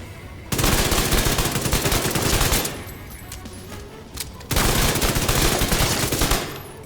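Submachine gun fire in The Division 2 comes as two long, loud, rapid full-auto bursts close up, with a short pause between them. A few faint clicks fall in the gap.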